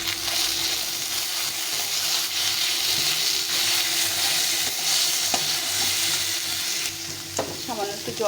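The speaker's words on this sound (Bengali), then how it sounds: "এই সবটা দিয়ে ভালো করে মটরটাকে কষিয়ে নেব।" Green peas are sautéed in a pan with chili powder and ginger and green chili paste, a steady loud sizzle running throughout with scraping stirs and a brief clatter near the end.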